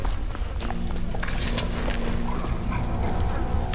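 A dog in the video game Dishonored gives a few sharp barks and whines amid game ambience, with someone talking over it.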